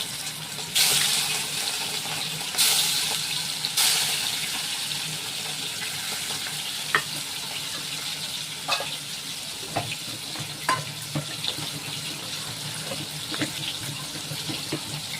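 Fish rubbed with salt and turmeric frying in hot oil in a pan gives a steady, soft sizzle throughout, with a few sharp spatters near the start and occasional clinks and scrapes from stirring.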